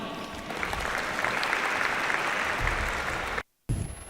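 Audience applause at a school annual awards day, a sustained wash of clapping from a large crowd that holds steady before cutting off abruptly near the end.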